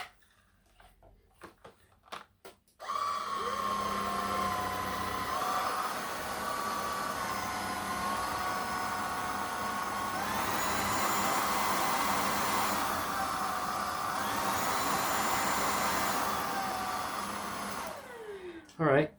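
A ZOKER A10 Pro vacuum cleaner kicks on after a few faint clicks and runs with a steady whining drone and airflow roar. The pitch shifts higher partway through, then the motor winds down at the end, with no voices.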